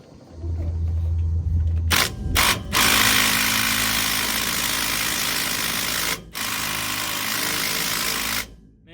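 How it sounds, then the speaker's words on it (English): A small Hyper Tough impact gun working on drive shaft bolts on a 1986 Chevy C10, giving loud, close, buzzing hammering rattles in a few bursts: short stuttering pulls at first, then one long sustained run with a brief pause, and no talk. "Man, this little impact sucks."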